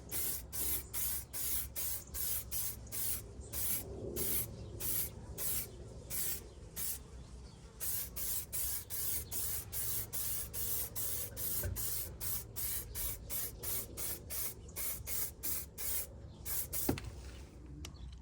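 A spray gun paints the rear quarter panel of a MK4 Golf in repeated short bursts, each hiss lasting a moment with brief gaps, steady and close over a low background hum.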